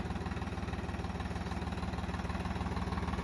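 A Powertrack 7000 tractor idles outdoors, its engine throbbing in a fast, even low chug that stays steady and moderately close for the whole stretch, with no voices.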